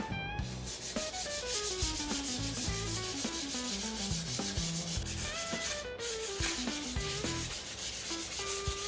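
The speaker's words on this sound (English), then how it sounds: "we're going to sand it again with 320 grit" Steady, continuous sanding strokes with 320 grit sandpaper rub across a wooden guitar body at an even pace, with background music playing throughout.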